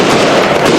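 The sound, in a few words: fireworks going up behind the stadium stand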